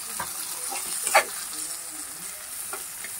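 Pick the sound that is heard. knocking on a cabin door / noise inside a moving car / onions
onions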